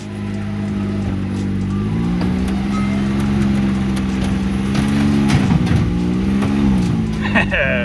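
A close Maverick off-road utility vehicle engine idles and revs in rising and falling surges, its low drone shifting pitch, with a few clanks and knocks along the way.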